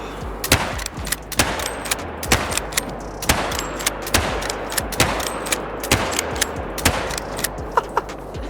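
Rapid gunshots from a 10-round .22 magnum rifle in the hunting game Call of the Wild, sharp cracks fired in quick succession about every half second, loud and close over faint background ambience.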